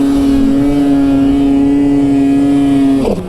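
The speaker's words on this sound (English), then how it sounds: "the turbo on the Polaris does take a little longer to spool up" Polaris turbo snowmobile engine holding a loud, steady high-revving drone for about three seconds, then dropping off sharply as the throttle closes, heard up close with no talking.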